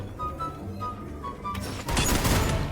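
Gunfire from the battle royale video game Free Fire erupts from a rooftop fight as a loud, dense volley of shots over game ambience, following a quieter stretch of background sound.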